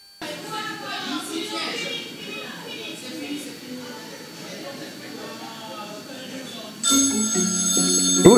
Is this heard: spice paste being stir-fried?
no